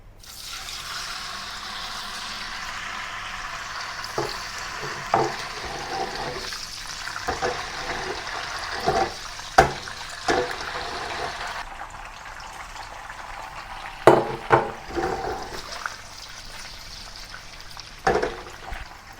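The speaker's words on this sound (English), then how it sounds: "The first step of cooking is to fry the tofu." Tofu fries in a pan of hot oil, giving a steady, soft sizzling hiss with scattered sharper pops and clinks from the pan.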